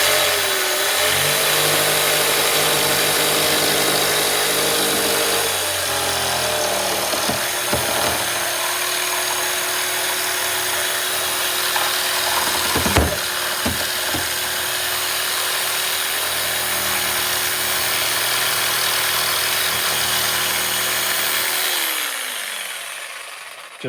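Power tool cutting a curved radius into a wooden front shelf for a pellet grill, a loud steady whining motor running close for most of the time with bursts of cutting, then spinning down.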